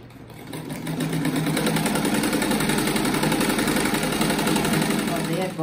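A sewing machine runs a seam on a fish-shaped ruffled rug, its motor giving a steady, close, continuous whirr for several seconds without pause.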